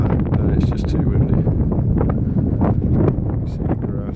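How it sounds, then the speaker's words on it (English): Strong, steady wind buffeting the microphone outdoors on exposed grassy ground, a constant loud low roar with occasional gusty rustles and faint higher hiss. "It's shifting like that, and it's just too windy."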